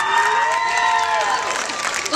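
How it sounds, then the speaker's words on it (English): A live comedy audience whoops and cheers loudly with rising and falling voices over a wash of clapping, a lively crowd roar filling the room. "give it your best whooping and cheering, get everyone fired up, get a huge round of applause"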